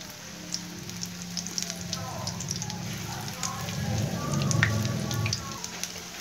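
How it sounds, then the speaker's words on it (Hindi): Spinach pakoras fry in hot oil with a steady, close sizzle and crackle, with a low hum underneath and bursts of bubbling that swell briefly toward the end. "अब मैं इसमें पकोड़े डालूंगी।"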